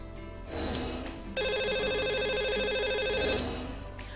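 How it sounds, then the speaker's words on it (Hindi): A telephone rings on a radio show as the lucky caller comes on the line, an electronic ringing tone that repeats steadily and sounds loud and clear, with no talk over it. "प्राणु इस समय हमारे साथ फोन लाइन पर भी जुड़ चुके हैं"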